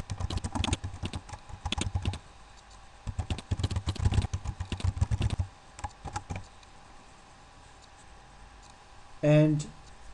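Keys on a computer keyboard clatter in quick, close bursts with short pauses, followed by a single brief louder click near the end. A voice talks in the background between the bursts.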